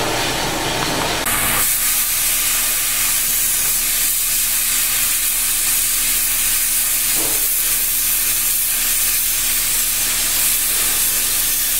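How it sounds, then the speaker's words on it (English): An oxyacetylene torch cuts steel plate with a loud, steady roaring hiss that swells sharply after the first second and holds unbroken close by, with no talking. "We're going to cut out some pieces with the oxyacetylene torch."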